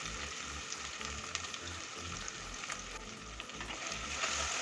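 Ginger and garlic sauté in plenty of oil in a pan for a chickpea gravy, a steady, even sizzle with a soft low bubbling underneath, close and continuous, without talk.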